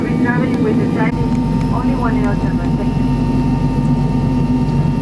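A steady, loud drone of jet airliner cabin noise fills a flight back to Buenos Aires, with a low engine roar throughout and faint voices murmuring under it.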